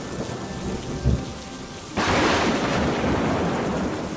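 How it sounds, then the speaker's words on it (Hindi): Thunderstorm with heavy rain: steady loud downpour hiss, a low thunder rumble around the first second, then the rain surges much heavier and stays dense to the end, no voices. "बिजली की आवाज से पूरा इलाका कांप रहा था।"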